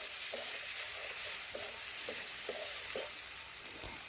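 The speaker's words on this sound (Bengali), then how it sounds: "এটাও এখন ভালোভাবে একটু ভেজে নিচ্ছি ডিমের সাথে" Egg fries with tomato, ginger-garlic paste and spices in a pan, giving a close, even sizzle broken by regular rhythmic scraping stir strokes.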